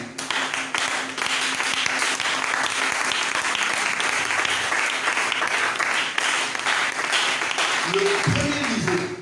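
A church congregation applauds the Lord in loud, sustained clapping that fills the room without a break. Low voices mix in near the end.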